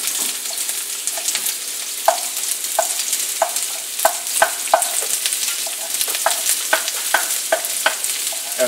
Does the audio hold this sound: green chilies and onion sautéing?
yes